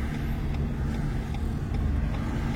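Car driving during a first driving lesson, a steady close in-cabin engine and road rumble with a low hum, nobody talking.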